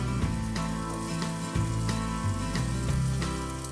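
Breaded chicken pieces fry in a couple of pans, giving a dense, close, continuous sizzle and crackle with a few soft bumps of stirring or turning, no voices.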